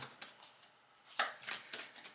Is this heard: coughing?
no